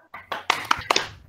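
Group of children clapping the 'tepuk semangat' chant, a run of separate sharp claps in an uneven rhythm, close and moderately loud, with no words spoken.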